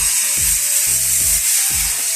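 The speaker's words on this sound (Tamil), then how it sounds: "அதனால அடுப்பை குறைச்சிட்டு தான் நாங்கள் இந்த ரொட்டி சுட போகிறோம்" Coconut-sugar roti cooking on a hot griddle over a lowered flame, giving a steady close sizzle with a few soft scraping stirs at regular intervals.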